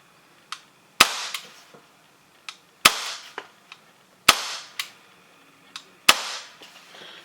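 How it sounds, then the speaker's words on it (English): Sharp dry-fire trigger clicks from a gun on a custom sleeper "GTB" build, four loud distinct snaps spaced about one to two seconds apart, each trailed by softer mechanical ticks and small clicks between them. "We'll do some dry firing."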